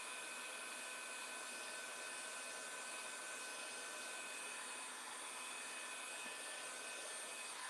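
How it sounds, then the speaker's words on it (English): An embossing heat gun blows steadily during a crafting session, a constant airy whooshing hiss that stays even and unbroken throughout, fairly quiet and close, with no talking. "So now I've got to get my heat tool."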